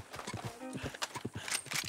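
Horse hooves clip-clop in a quick uneven rhythm in Red Dead Redemption 2, joined by a short whinny, close and fairly quiet with no talk over it.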